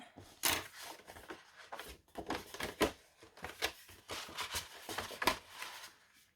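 Paper being creased into folds for a handmade album, a close, quiet run of crisp rustles and sharp pressing swipes in uneven bursts, with no talking.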